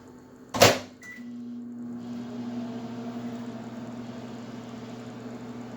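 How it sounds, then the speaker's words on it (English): A sharp click and beep, then a steady low mechanical hum drones on evenly, close by, the sound of a microwave oven running. "I'm going to just pop it in the microwave for 30 seconds."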